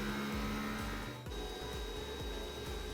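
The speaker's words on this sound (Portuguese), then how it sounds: "é a parte da calibração aqui do Input in Shape. Essa parte é onde ela vai detectar a vibração de onde a impressora está." An Anycubic Kobra S1 3D printer runs its input shaping vibration calibration, a loud continuous buzzing drone with rhythmic sweeping motor pulses repeating every fraction of a second, a brief dip midway, and no talking.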